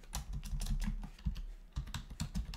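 Rapid clicking keystrokes on a computer keyboard, close and fairly quiet, arriving in quick irregular bursts with a short pause midway.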